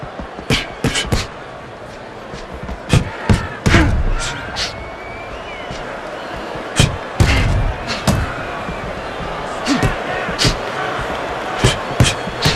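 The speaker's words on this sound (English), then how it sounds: "He put the third punch in there and landed the combination." Repeated punches landing in the boxing video game Fight Night Round 4, sharp thuds and slams arriving in quick combinations and single hits over a steady arena crowd murmur.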